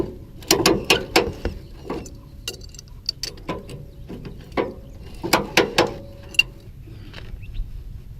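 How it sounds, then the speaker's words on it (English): A ratchet strap is cranked tight on a tow dolly, producing sharp metallic clicks in quick bursts of three or four with short pauses between, close and clear. "now we're going to go and ratchet it up"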